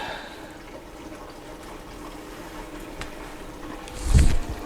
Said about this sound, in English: Taking on water, that's a start.